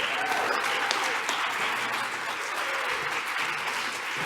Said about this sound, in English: Let's give him our applause.